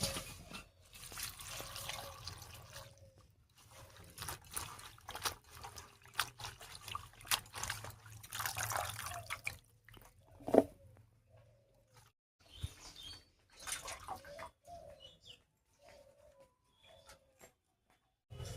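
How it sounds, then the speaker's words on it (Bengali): Water trickles and drips faintly and unevenly while chopped pumpkin vine leaves are rinsed clean, with occasional bird calls in the background of a quiet setting. "এই দেখুন পাতাগুলো সব বেছে নিয়েছি, এবার পরিষ্কার করে ধুয়ে নেব"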